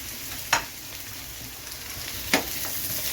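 Onions, green chillies and curry leaves sauté in an oily pan for an egg roast, giving a steady close sizzle broken by two sharp scraping stirs, with no talking.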